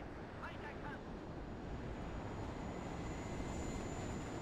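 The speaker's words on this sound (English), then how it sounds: "These planes are pretty cool." Steady broadband roar of warplanes passing over in the video game WARNO, a continuous loud jet rumble with a faint high whine, with a voice talking underneath.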